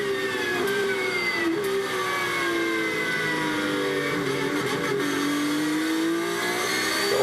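A day-glow yellow Porsche 911 race car at the Total 24 Hours of Spa 2018 night practice, onboard, its engine droning and rising in pitch as it accelerates, steady and loud throughout.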